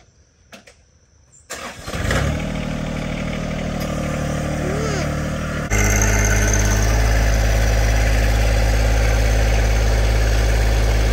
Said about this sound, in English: So I'm going to turn the tractor around